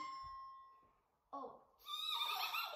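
A person imitates a horse's neigh, a short nasal voiced burst followed by a louder, rising whinnying cry after a brief pause.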